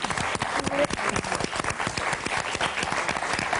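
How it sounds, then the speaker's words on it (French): A game-show studio audience applauds four contestants, crisp individual claps forming a steady rhythmic patter at moderate distance, with faint voices mixed in. "on va applaudir nos 4 candidates"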